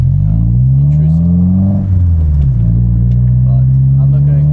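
A Subaru WRX VB with an Invidia R400 exhaust revs up and settles back, a loud low rumble that climbs in pitch and drops again, close by and steady.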